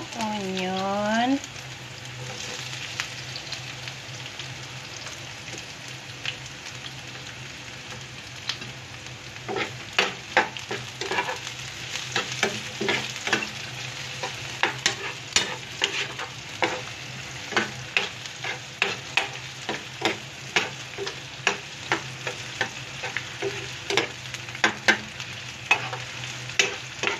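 Onion sautéing in a hot pan for ginisang mongo sizzles steadily and up close, with rhythmic stirring scrapes growing busier through the second half and a brief voice early on.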